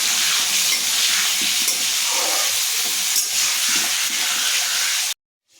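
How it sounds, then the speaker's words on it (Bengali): Potatoes frying in hot oil in a wok, seasoned with salt and turmeric, give a steady, loud, close sizzle and hiss with faint stirring scrapes, cutting off abruptly near the end. "এবার আলুগুলোকে লাল লাল করে ভাজবো।"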